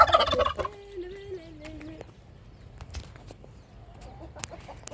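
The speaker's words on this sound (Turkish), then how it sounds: "Hindi geliyor." A sick turkey gobbles loudly at the start, a rapid warbling burst, followed by quieter stray calls and faint rustling.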